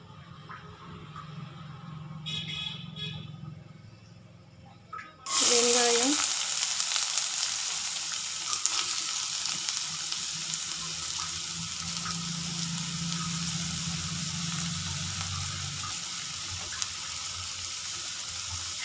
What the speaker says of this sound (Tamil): அதில் என்ன சூடானதும் பட்டை கிராம்பு போட்டிருக்கேன் பட்டை கிராம்பு பொறிஞ்சதும்